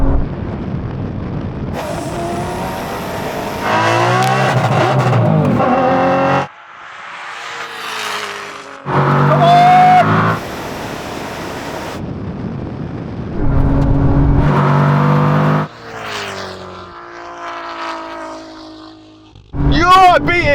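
A Koenigsegg, a 1000 hp Audi TT and a Porsche 911 Turbo S run a drag race, with loud bursts of engine roar and acceleration separated by quieter stretches where people talk.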